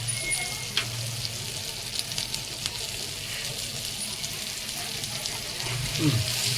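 Steady frying sizzle of mackerel on a hot griddle, crackling continuously at moderate volume, with brief faint voices in the background.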